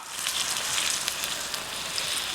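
Water poured into a hot pan of crab over glass noodles gives a steady, close hiss and crackling sizzle that holds at an even level throughout.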